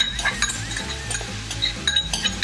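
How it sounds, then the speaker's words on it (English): Red onions and celery sweat in a pan at a soft, uneven sizzle, with repeated clinks and scrapes of a utensil against the cookware and no talking. "So we're just going to sweat the vegetables a little bit."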